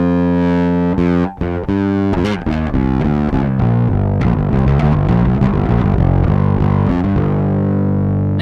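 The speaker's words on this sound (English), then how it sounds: "get that classic Boss Overdrive sound" Electric guitar played through a modified Boss Overdrive pedal, gain turned up, giving a loud, continuous distorted tone with rapid picked notes and chords ringing for the whole stretch, with no voices.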